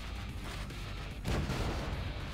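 A ship cannon firing in the naval battle video game Battle Bay, a single muffled booming shot midway through, with a dense rumbling game background before and after.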